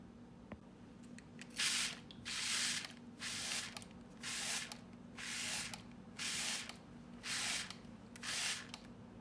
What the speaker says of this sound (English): taking the spray bottle and gently spraying our watersheds